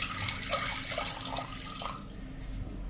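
Water is poured from a glass into a cooking pot on a gas stove for steaming potatoes, making a splashing, gurgling stream close up that tapers into a lighter trickle.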